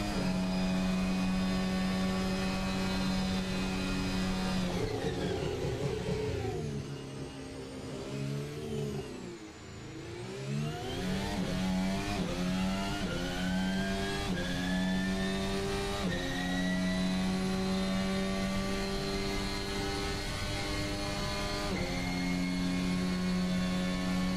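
Formula 1 car engine in an Assetto Corsa mod, a loud continuous high-revving whine with steady harmonic tone, dipping and rising through a lift and re-acceleration mid-lap before holding high revs.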